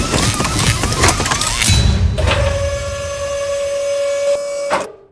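An AI weapon mixer machine starts after the red button is pressed, giving a steady mechanical whir with a sustained tonal hum that runs for a few seconds, following clattering, and then cuts off abruptly.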